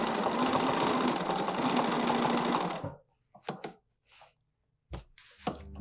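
Sewing machine stitching an embroidered tree branch border, a loud rapid continuous stitching run for about three seconds, then stopping, followed by scattered soft knocks and brief handling sounds.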